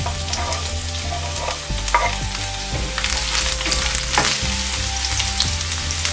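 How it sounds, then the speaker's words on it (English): Garlic and fennel seeds sizzle and crackle in hot oil, with a steady frying hiss broken by louder bursts as a spoon stirs and scrapes the pan; close and continuous, with no talking. "Now I am adding garlic here."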